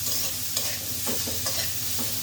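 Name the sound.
stirring frying food with salt and turmeric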